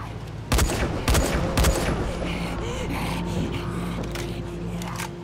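Gunfire in the zombie game Dying Light: The Following on PS4: three sharp, loud blasts in quick succession near the start, then a steady background din of game ambience with no further shots.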